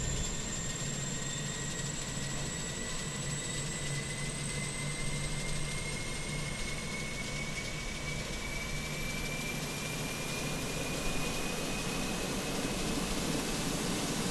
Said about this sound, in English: It's powering up, the APU is powering up.